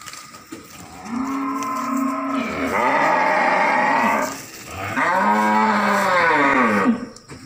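Beef cattle being loaded onto a truck give long, loud, close moos, two drawn-out calls in a row with a short break between them and no talking.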